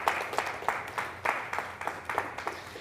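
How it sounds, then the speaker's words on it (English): A congregation at a Rosh Hashanah service claps for the staff and crew, heard as a light, rhythmic run of distinct, evenly spaced claps about three per second, steady and fairly close. "give them a round of applause if you would"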